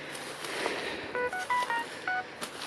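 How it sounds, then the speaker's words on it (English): A mobile phone rings outdoors among abandoned, rusting classic cars, giving a quick run of short electronic beeping tones close by. "Oh, there goes my phone."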